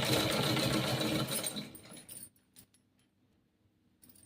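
A sewing machine stitches lehenga fabric in one steady, loud run for about two seconds, then stops, leaving a few faint clicks and handling noises.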